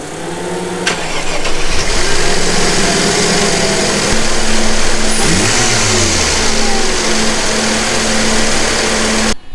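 A Mercedes-Benz W124 engine cranks and catches after a spark plug install, then runs steadily with a loud, even rumble and a brief rev partway through, ending abruptly.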